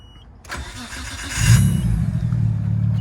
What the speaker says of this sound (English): Another cool thing about this car is it has an exhaust valve. We'll start it up.